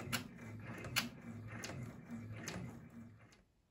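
A home embroidery machine stitches a tack-down outline for an in-the-hoop stuffed bunny, giving a steady, close mechanical chatter of needle strokes with rhythmic clicks that fades out near the end, with no talking.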